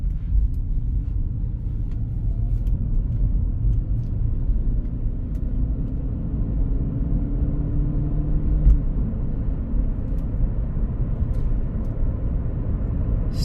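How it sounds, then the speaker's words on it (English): Steady low engine and road rumble from a 2003 Lexus SC 430 convertible on a short test drive, continuous and even in level with no talk over it. "let's go on a quick test drive"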